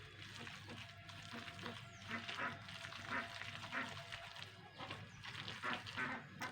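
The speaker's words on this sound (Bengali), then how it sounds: "ভালো করে আমি ফেটিয়ে নেবো 2-3 মিনিট ধরে" Hand-whisking fuluri batter in a bowl gives repeated soft wet sloshing and clicking strokes in an uneven rhythm, moderately quiet and close, with no talk.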